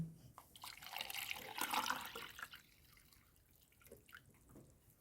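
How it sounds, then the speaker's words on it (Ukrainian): Warm water is poured into a pot holding a Pink Dragon orchid offshoot, a close splashing gush for about two seconds that tapers into softer trickles and drips. "ставлю у горщик і заливаю тепленькою водичкою"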